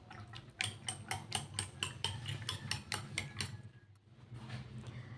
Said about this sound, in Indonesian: Kita kocok hingga berbuih ya teman-teman.